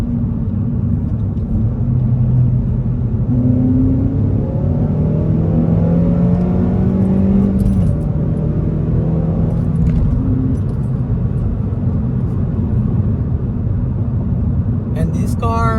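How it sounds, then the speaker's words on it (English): A car's engine revs during a downshift to third gear, a steady loud drone with rising and falling engine tones over road rumble, fading to steady cruising noise. "Let's do a little bit of a downshift to third real quick."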